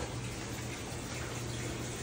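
A washing machine under repair for error E1 fills with water on its quick wash cycle, giving a steady, soft, continuous rush of running water without talking.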